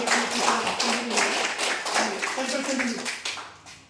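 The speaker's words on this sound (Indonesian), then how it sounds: "Tepuk tangan dulu." A classroom of students claps their hands together for several seconds, a steady patter of many hands under some overlapping talk.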